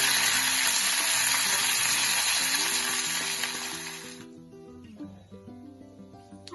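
Dried red chilies and curry leaves frying in hot oil as tempering for a dondakaya (tindora) chutney: a dense, loud sizzle for about four seconds that then drops away, leaving faint crackles over a soft tonal background.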